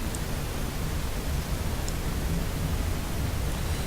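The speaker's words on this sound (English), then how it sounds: "They've added some sound effects. At least I don't remember hearing that wind before." Steady, rushing wind from Kerbal Space Program version 0.24 fills the whole stretch as an even, dense broadband hiss with no gusts or breaks, and no talk over it.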